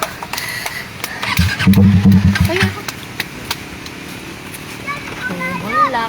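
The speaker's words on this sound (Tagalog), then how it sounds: "Malakas ang motor ni Marlo." Loud motorcycle engine revving up near the listener, a thick rumbling burst in the middle of the clip, with people chatting in Filipino before and after it.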